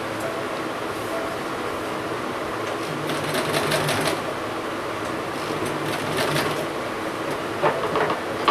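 A sewing machine runs steadily, stitching ribbon onto cloth for a small half-pant outfit, its continuous whirring hum filling the whole stretch with a few brief pauses in speed.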